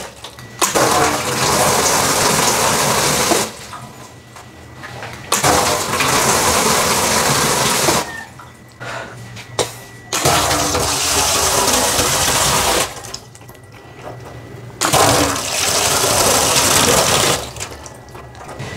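A sensor-controlled water faucet switches on and off repeatedly, loud gushing bursts of several seconds each separated by quiet gaps, heard up close with no talking.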